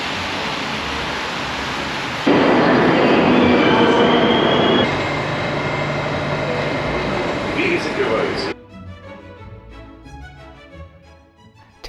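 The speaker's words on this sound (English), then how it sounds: "Taking a ride on Moscow's metro is a once-in-a-lifetime experience as well." Moscow metro train riding along, a loud continuous rumble and roar of wheels on rails with a squealing tone, surging heavier midway, then dropping abruptly to a quieter interior hum.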